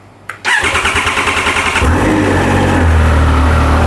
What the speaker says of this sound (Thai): มาฟังเสียงเครื่องยนต์